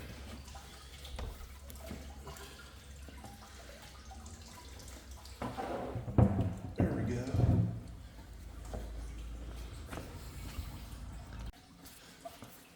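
Coolant drains from a 2004 Jeep Grand Cherokee into a catch tray, a steady splashing pour that swells in the middle and then tapers off, with someone talking over it.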